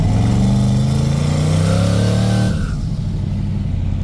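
A 1963 Rambler American with a twin-turbo LS engine swap pulls hard under boost, its loud, droning engine note climbing steadily before the throttle lifts and the sound drops to a lower, rough idle-like rumble.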